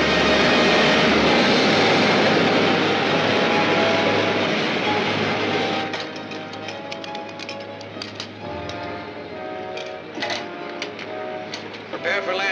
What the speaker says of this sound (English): Veer to the right, Ted. Land beyond that next range of hills.